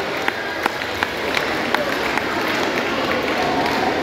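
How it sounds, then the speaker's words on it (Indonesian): A school arts and farewell event audience claps for Pak Sinaga, a dense crowd applause with a few sharp individual claps early on, steady and fairly loud, with a voice faintly underneath. "Tepuk tangan untuk Pak Sinaga, luar biasa karena sambutannya."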